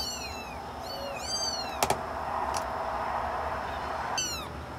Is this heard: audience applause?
no